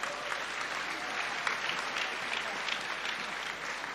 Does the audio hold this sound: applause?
yes